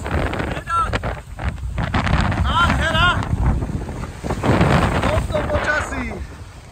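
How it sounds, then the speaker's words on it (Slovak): Extreme November wind blasts across the Zemplínska šírava lakeshore in a heavy downpour, a loud, rough rush of noise buffeting the microphone while people talk over it. "budeme 20. novembra tu v lejáku a v extrémnom vetre, to sa nám nesnívalo"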